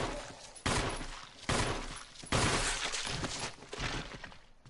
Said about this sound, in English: I know I shouldn't shoot off screen